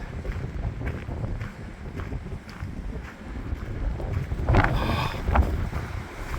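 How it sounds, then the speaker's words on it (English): Strong wind roars and buffets the microphone in gusts on a cold, snowy spring day in Albuquerque, with a louder blast near the end. "I don't know if you can hear that wind"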